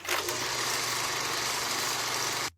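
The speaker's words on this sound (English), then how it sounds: "old movie projector" An old movie projector whirs steadily, a constant mechanical hiss and low rattling hum running evenly for a couple of seconds before stopping suddenly.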